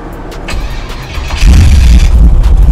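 A 1971 Chevy Impala with a big small-block V8 cranks briefly with the starter whirring, then catches and fires into a loud, deep, rumbling idle close by.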